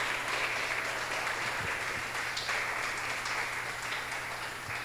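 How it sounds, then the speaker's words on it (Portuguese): A church congregation applauds together during a sermon, a dense, steady patter of many hands clapping at once, fairly close and continuous, with no voices over it. "aplaude o Senhor bem forte, glorifica Ele com a sua boca e com os teus lábios"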